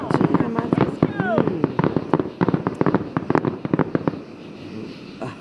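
Fireworks bursting at Rock Island in a rapid crackling barrage of sharp pops and bangs, close and loud, with people talking and exclaiming over the display.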